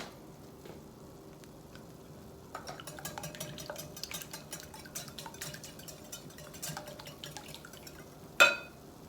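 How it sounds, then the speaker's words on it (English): Heavy whipping cream being whisked in a larger bowl, heard as quick, light clinking strokes close by, with one louder clank near the end and no talking. "put this in a bigger bowl. That'll be easier to whisk that way."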